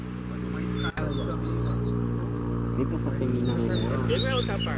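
A female coleiro, the double-collared seedeater, gives short high chirps and calls, scattered and moderately near, under a steady low hum and someone talking excitedly throughout.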